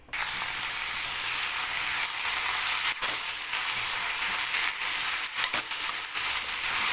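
Potatoes and okra fry in hot oil, a dense continuous hiss of sizzling that stays even and close throughout, with occasional faint pops and no talking.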